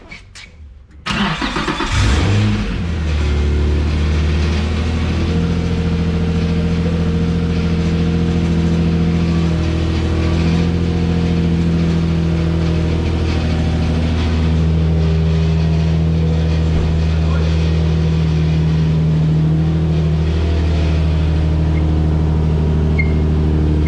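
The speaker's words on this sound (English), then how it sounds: "Just turn the car on and turn it." A Nissan 350Z fitted with a GKTech angle kit cranks and starts, then settles into a steady engine run with a few rises in revs, loud and close throughout.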